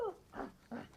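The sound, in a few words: dog barking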